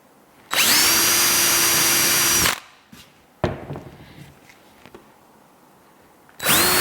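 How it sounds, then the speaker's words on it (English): A power drill drives screws into a wooden lathe upper cabinet, with two loud, sustained whirring runs: one of about two seconds near the start and another beginning at the end. Lighter knocks and handling clatter fill the gap between them. "drive some screws and get this back in place"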